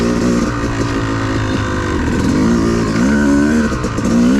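A dirt bike engine drones steadily and close on an OHV trail at Brown Mountain, its pitch rising and falling as the throttle shifts, with no voices over it.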